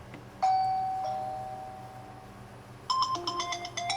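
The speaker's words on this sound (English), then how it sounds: "I have the VoIP turned on, so it should call my phone" A Wyze Duo Cam smart doorbell chime rings out, clear and close, then fades; moments later a phone starts ringing with a rapid, repeating electronic tone from the doorbell's VoIP call.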